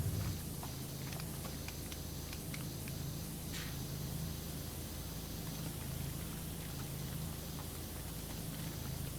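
A pressure washer sprays continuously in PowerWash Simulator, a steady broad hiss of water jetting against surfaces with a low motor hum underneath and faint ticks, fairly quiet throughout.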